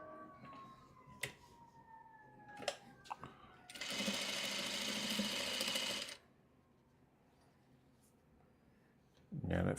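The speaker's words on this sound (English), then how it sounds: "Let's sew on the last row." A sewing machine stitches the last row of a quilt block in a steady two-second burst of rapid mechanical whirring, quiet and close, surrounded by faint handling clicks and taps.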